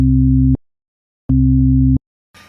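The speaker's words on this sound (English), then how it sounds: "since they are only sine waves and they have only one harmonic" Pure sine test tones used to demonstrate phase, two steady loud low hums each lasting over half a second, separated by silence, followed by a faint brief noise at the end.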